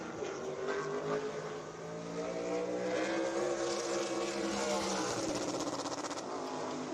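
Race car on a qualifying run at Five Flags Speedway in Pensacola, Florida, during the Sunshine State 200, a high engine whine holding and sweeping in pitch as it laps, loud and continuous.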